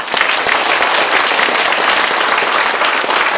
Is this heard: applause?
yes